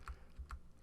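Computer keyboard keys are tapped softly, two light clicks about half a second apart, in a quiet room during Photoshop Elements editing.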